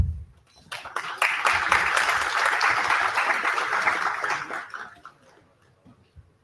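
An audience at a B.Tech inauguration event applauds and cheers as a team takes the stage, a dense burst of clapping swelling quickly, holding steady for several seconds, then fading out.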